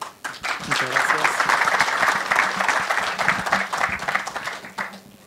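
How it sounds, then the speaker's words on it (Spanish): A seminar audience applauds at the close of a technical talk on machinery precision. Dense, steady clapping fills the room for several seconds, with some voices mixed in underneath. "Bueno, le damos un aplauso."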